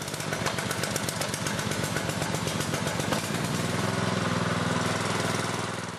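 A small engine fires up and settles into a steady warm-up, starting with rapid clattering putters and then holding a loud, continuous mid-pitched drone close by, with no talking.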